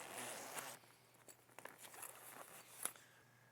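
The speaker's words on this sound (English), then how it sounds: "now we're ready to zip it in" Zippers drawn along the sides of a Shadow Top shade panel fitted under a boat bimini, a few quiet rasping pulls and fabric rustles, close by but soft, with no talking.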